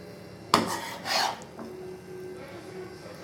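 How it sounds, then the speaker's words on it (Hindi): Mutton korma biryani, made with yogurt and no tomato, is spooned into a serving dish: one sharp clank of a utensil on the dish, followed by a soft rasping scrape, then quieter faint rubbing. "अभी मैं सर्विंग डिश में इसको डाल रही हूँ।"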